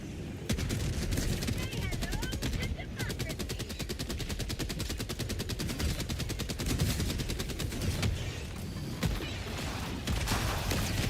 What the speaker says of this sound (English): Oh, those are mortars.